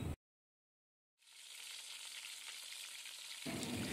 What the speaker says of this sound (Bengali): চিকেনগুলোকে ভালো করে উল্টে পাল্টে আমি ফ্রাই করব।